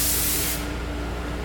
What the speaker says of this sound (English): this is an iron phosphate bath that will spray on inside here as the part's going through